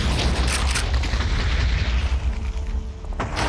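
Deep booming explosions from bombardment in the Minecraft video game, a heavy blast at the start followed by rumbling aftershocks, loud and without speech.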